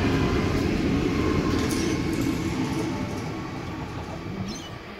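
A Sydney MTPV2 suburban train arrives at platform 1 at Concord West station, its loud, steady rumble of rolling wheels and rail noise close by and gradually easing as it slows, with no talk.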